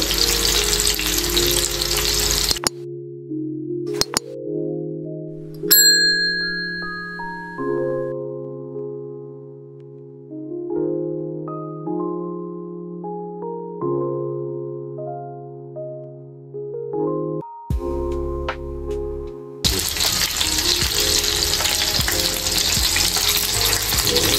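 Seekh kebabs fry in a pan over slow-to-medium heat as the second side turns golden brown; a steady hiss opens and closes the stretch, with a quieter tonal musical passage between.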